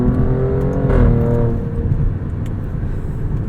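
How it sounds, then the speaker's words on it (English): A 2022 Alfa Romeo Stelvio Quadrifoglio's V6 pulls under throttle, its exhaust note rising in a loud, close drone that swells and then settles into a steady rumble, with no talk. "when you get into the throttle, the exhaust will open up above a certain RPM"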